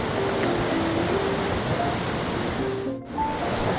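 A waterfall rushes somewhere below a room, making a continuous broadband roar that stays loud and even, with only a brief dip near the end and no voices.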